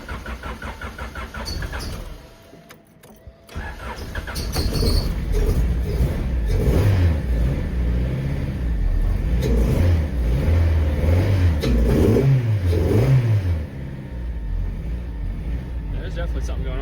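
A classic Mini Cooper engine with an idle valve fault cranks, catches and roars up, then settles into an uneven, lumpy idle close by, with a person talking over it.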